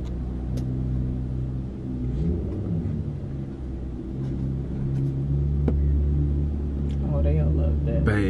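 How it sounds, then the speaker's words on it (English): A McLaren sports car nearby with its engine giving a low, steady rumble that swells slightly toward the end, with people talking over it. "What is it? A McLaren."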